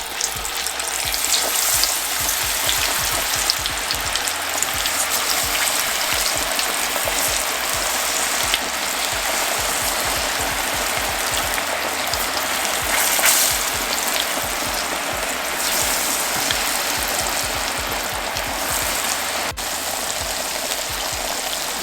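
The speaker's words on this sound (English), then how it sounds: "You want to fry your fries until they are golden" French fries frying in oil in a large cast iron pan, a dense, continuous crackling sizzle with fine popping that holds steady throughout, close and with no talking.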